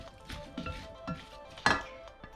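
Salad of beetroot and raw carrot mixed in a bowl with a utensil, several soft scrapes and clinks followed by one sharper knock, fairly quiet with no voices.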